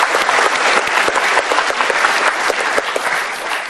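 Sustained audience applause at a motivational seminar, dense and loud, many hands clapping steadily throughout with no pause.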